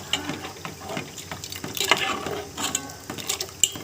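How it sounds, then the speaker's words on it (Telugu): Water poured into a pot of tamarind rasam along with a spice paste, a light splashing and trickling with small clinks through the middle, close and fairly soft over a steady background. "ఇప్పుడు కొన్ని వాటర్ పోసుకోండి."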